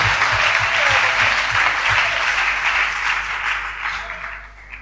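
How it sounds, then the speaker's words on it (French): A church congregation at a Sunday service applauds loudly and steadily, a thick roar of clapping with a low rhythmic thump underneath, gradually fading over the last second. "Est-ce qu'on peut applaudir le Seigneur puissamment?"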